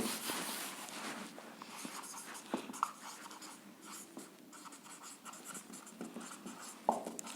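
Chalk or marker writes on a board during a maths lesson on relations and functions, a steady scratchy scraping with small taps and strokes, close and continuous, no speech heard.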